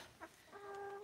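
A Rhode Island Red hen on a homestead gives a short cluck, followed by a sustained, tonal chicken call that is faint and close, with a quiet farmyard background.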